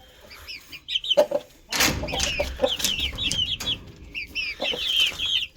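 Farmyard chickens cluck and squawk nearby, a busy overlapping chorus of short calls with a burst of flapping or scuffling partway through, and no talking.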